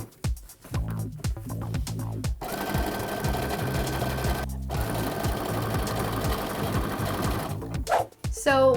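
A sewing machine top-stitches fabric onto a costume collar in several runs, its rapid mechanical chatter stopping and restarting: short bursts at first, then a long stretch broken by one brief pause and a stop near the end.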